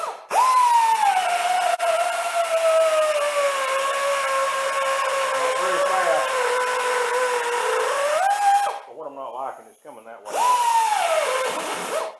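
Carbide burr grinding material on a 3-inch semi trash pump, a loud steady high-pitched rotary tool whine that runs for about eight seconds, briefly cuts out, then spins up again.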